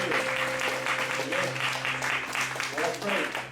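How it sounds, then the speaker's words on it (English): Congregation at a Sunday worship service clapping in praise, a rhythmic patter of many hands beneath a sustained instrumental tone, with a voice speaking over the clapping. "Let's give a clap of praise."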